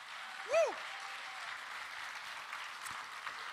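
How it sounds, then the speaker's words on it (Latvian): An audience at a Latgalian culture awards event applauds with a steady, moderately loud wash of clapping that continues throughout, with a brief whistle-like squeal near the start. "Tān, ar skaļiem aplausim, protams."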